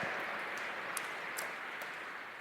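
Crowd applause for Envy and Team Secret at a Dota 2 Frankfurt Major esports event: a steady, dense wash of many hands clapping at moderate distance, sustained without a break and with no voices over it.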